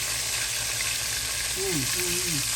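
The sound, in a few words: pork chops frying in a pan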